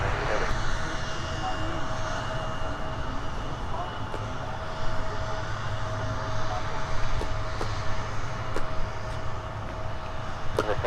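An Airbus airliner passes on the ground at Minneapolis–Saint Paul airport, its steady jet engine roar filling the clip under radio chatter and voices.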